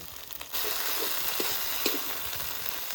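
Spice paste fries in oil with a sudden loud, sustained sizzle and hiss, broken by a few soft stirring scrapes, close and with no talking.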